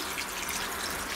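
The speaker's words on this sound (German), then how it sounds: "wir dann jetzt mit Wasser aufgießen." Water poured from above into a Dutch oven holding reduced red wine for a pork roast, giving a steady, soft, hissing splash with no breaks and no talking.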